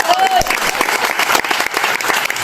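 An audience claps continuously at a local student political gathering in Bangladesh. The applause is a dense, sustained patter, and a brief voice is heard at the start.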